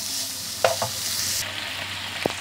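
Turkey breast frying in a pan and being stirred gives a steady close sizzle, broken by a few sharp clinks and scrapes of the utensil.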